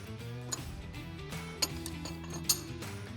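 A wheel lock being undone on a VMS sign trailer gives a few sharp, separate metallic clicks and ratchet-like ticks, close by, over a steady low hum.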